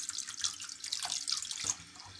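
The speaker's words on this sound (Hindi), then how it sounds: "और इसमें अब थोड़ा सा पानी डालेंगे ठंडा," Cold water splashes from a tap over lemon pieces in a container, a steady hissing pour with small drips and splatters.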